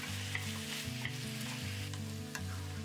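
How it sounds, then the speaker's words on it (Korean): Hard vegetables stir-fry in a hot pan for pork neck curry, a steady close sizzle broken by a few scraping strokes of the spatula, with no voices. "딱딱한 야채부터 먼저 볶아주고요."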